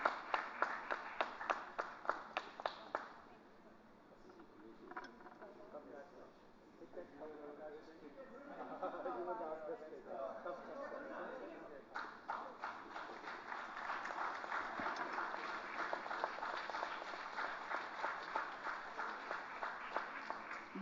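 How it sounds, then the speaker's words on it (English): Audience applause for award winners at the INFOCOM Future Leadership Awards 2016 ceremony: sharp rhythmic clapping at first, a quieter lull with murmuring voices, then a swell of dense, sustained clapping that carries on to the end. "And a big round of applause for Basabjit Nag and Reshmi Nath."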